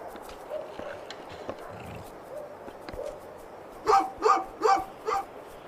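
Dog barking in the video game A Juggler's Tale: four loud, evenly spaced barks near the end, following quieter ambient game sounds.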